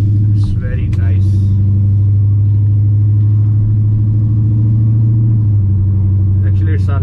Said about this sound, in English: Super 44 Flowmasters in this truck. That's why it's a little bit loud.